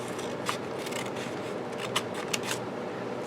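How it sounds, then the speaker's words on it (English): Scissors cut around the edge of paper, quiet snipping and crisp scraping with a few sharp clicks, close and isolated. "come back in with a pair of scissors and simply cut around the edge, just like that."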